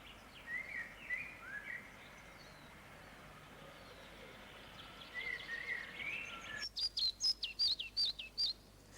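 A spotted flycatcher calls in a British garden: faint, thin, high chirps scattered over soft background noise, then a louder run of sharp, rhythmic tweets near the end.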